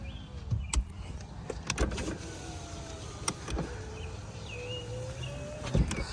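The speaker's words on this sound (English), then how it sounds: "Window rolls down. Window rolls up. Very, very slowly." A truck's power window motor whirs slowly down and then back up, a thin steady electric drone running through the whole stretch with a few sharp clicks and knocks, no talking.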